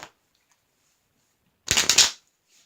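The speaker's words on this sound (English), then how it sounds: "it shuffles surprisingly well" A Bicycle Navy & Coral deck of playing cards riffled in a single quick, crisp burst of fluttering card snaps, close by, preceded by a faint tap.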